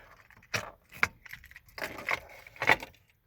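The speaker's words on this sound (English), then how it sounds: "So remove your keys." Car keys for a Hyundai Elantra jangle and clink in short metallic bursts as they are pulled out of the ignition lock cylinder, heard close up and fairly quiet, with no talking.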